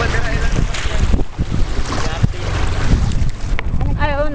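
Boat passing on open water, a continuous broadband rumble of motor and wash mixed with heavy wind buffeting on the microphone, loud and close, with people talking over it.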